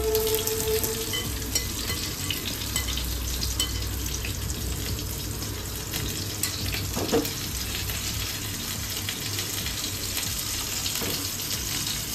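Pointed gourd (potol) pieces, rubbed with salt and turmeric, frying lightly in hot oil for a Bengali potol korma, a steady close sizzle and crackle with a few faint clinks, no talking.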